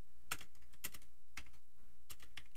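Typing on a computer keyboard, a handful of clicky keystrokes in short irregular bursts, close and fairly quiet.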